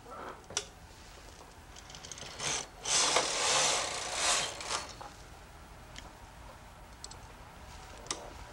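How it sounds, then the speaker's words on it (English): A knitting machine carriage knits a row of ravel cord with a rushing mechanical slide in the middle, framed by scattered sharp clicks and ticks at moderate loudness. "knit one row across."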